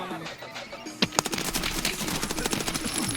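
Rapid automatic gunfire from an SMG in a video game follows a quiet stretch and rattles on steadily, with sharp shots near and close together.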